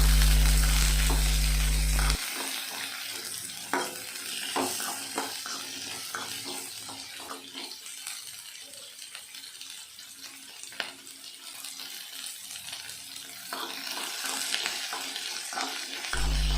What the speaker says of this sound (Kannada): ಸ್ಪೂನಿಂದ ತಿರುಗಿಸ್ಕೊಂಡು ತಿರುಗಿಸ್ಕೊಂಡು ಎಣ್ಣೆಲಿ ಚೆನ್ನಾಗಿ ಫ್ರೈ ಮಾಡ್ಕೊಬೇಕು ಈರುಳ್ಳಿ ಮೆಣಸಿನ್ಕಾಯಿ ಬೆಳ್ಳುಳ್ಳಿ ಎಲ್ಲ ಚೆನ್ನಾಗಿ ಫ್ರೈ ಆಗಬೇಕು